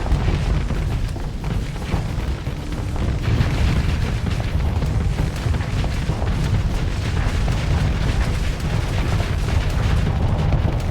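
Ship weapons and explosions from the space combat game Starsector roar continuously: dense, loud booming and crackling bursts layered into an unbroken wall of battle noise, with no talk over it.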